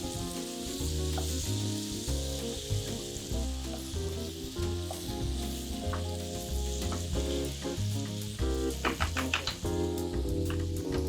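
A stuffed chicken filling mixture sizzles and crackles in a frying pan while it is stirred. The frying is loud and continuous, with scraping stir strokes coming through the hiss.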